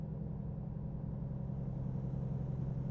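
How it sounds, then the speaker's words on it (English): Truck engine in the American Truck Simulator video game, a steady, loud low drone at constant pitch with no revving or talk. "the truck sounds really loud, doesn't it?"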